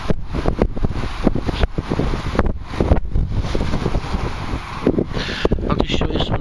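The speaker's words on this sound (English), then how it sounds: "Sorry about the wind." Gusty wind buffeting a microphone outdoors, loud rough rumbling in irregular bursts that go on throughout.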